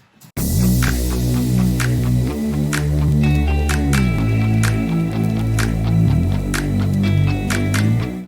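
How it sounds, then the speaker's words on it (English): A slap house first break with layered synths over disco strings, atmosphere and vinyl noise: a dense, loud sustained chord pad with a thick low bass line, steady bright percussive ticks throughout, no voices. "All together in this first break, the synths sound like this"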